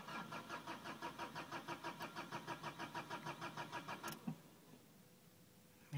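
A car engine cranks without the accelerator pressed and fails to start: a close, rapid rhythmic churning of the starter for about four seconds, then a sharp stop and near quiet.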